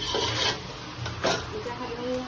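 Biryani garam masala being stirred in a pot, heard as a soft rasping scrape with a couple of stronger strokes over about two seconds, close and fairly quiet.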